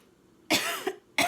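A woman with a tickle in her throat gives a short, sharp cough, a softer follow-up cough, then another abrupt cough, close and alone in a quiet room.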